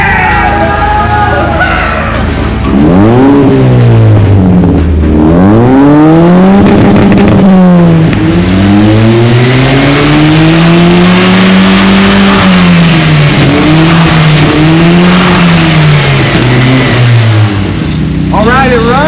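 The Deep Orange 3 prototype car engine fires up and runs loud and close, its pitch rising and falling through repeated revs, with voices calling over it.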